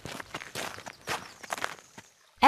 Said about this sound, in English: The kids come running to eat.